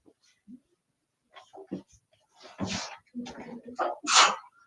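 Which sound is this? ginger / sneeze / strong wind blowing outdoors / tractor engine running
sneeze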